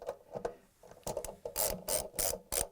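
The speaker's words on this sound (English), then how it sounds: "tighten them up with a 10mm socket wrench" A 10mm socket wrench ratchet clicks as bolts are tightened while replacing a Samsung washer's center tub seal. The sound comes in short bursts of pawl clicking, growing louder and quicker toward the end.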